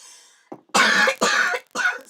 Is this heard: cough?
yes